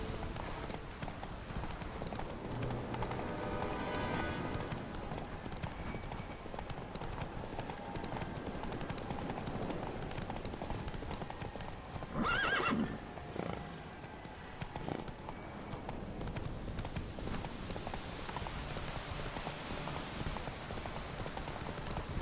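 Horse galloping in The Witcher 3, a continuous run of hoofbeats over ambient game sound that lasts the whole stretch, with a brief louder burst partway through.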